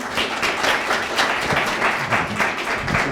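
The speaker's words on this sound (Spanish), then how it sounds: "Un aplauso." An audience applauds speaker Emilio Hernández at a business entrepreneurship talk in Concepción, a steady patter of many hands clapping at moderate loudness for about three seconds with no one speaking.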